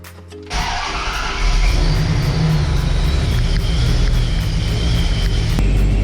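A supercharged Dodge Dakota R/T engine cranks and catches, then settles into a steady, loud, close idle that holds without pause.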